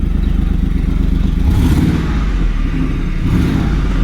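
A Ford F-150 with a 4.6 engine idles steadily up close with a slight misfire, its low, uneven rumble broken by a brief rev partway through, with no talk over it.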